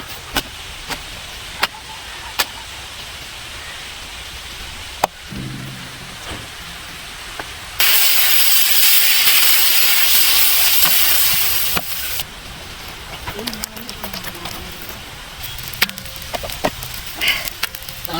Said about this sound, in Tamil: தண்ணி ஊற்றியா இங்கே புகையும்.